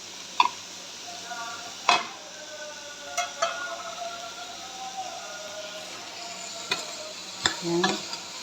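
Ampalaya (bitter gourd) and tomato stirred in a cooking pan, with a soft sizzle running underneath and a handful of sharp spoon clinks and scrapes scattered irregularly through it.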